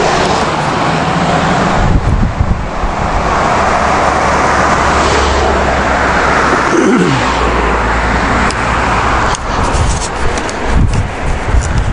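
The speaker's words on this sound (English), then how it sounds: "As soon as this car goes by." A car passes along a road beside a park near Yorktown, Virginia, its engine and tire noise swelling and fading amid steady traffic rumble and wind buffeting the microphone, with no talking.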